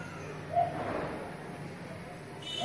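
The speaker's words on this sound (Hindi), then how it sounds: "ये झोले में आए हुए कबूतर उठ रहे हैं" Pigeons in a loft make soft, low coos close by, with a couple of short calls over a quiet background.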